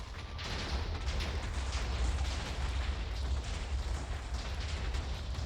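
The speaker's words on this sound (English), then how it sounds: "You have to wait for the third explosion before you go" Explosions in a Minecraft parkour map, a dense continuous rumbling roar of overlapping blasts and debris, loud and unbroken for the whole stretch.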